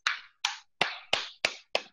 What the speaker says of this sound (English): with laughter yoga, we clap palm to palm, fingers to fingers